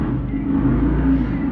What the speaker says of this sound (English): these cars, when they're passing by, you can really hear them